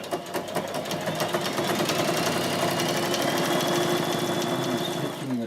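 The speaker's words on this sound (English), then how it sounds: "Stitching the tunnel onto the bag itself." An old bed sheet being sewn into a tunnel sleeve on a bag, the sewing machine running in a steady, close, continuous mechanical whir with rapid needle rhythm throughout, stopping at the end.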